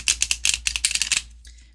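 A deck of oracle cards being shuffled, a quick burst of crisp, close riffling flutters lasting about a second, followed by a softer brief rustle.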